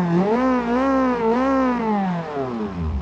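A coupe-like rally car styled after a Hyundai Elantra has its engine revving steadily with a strong tonal drone that rises and falls in pitch, winding up twice before easing down, close and loud, with no talk over it.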